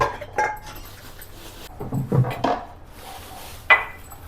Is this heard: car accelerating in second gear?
no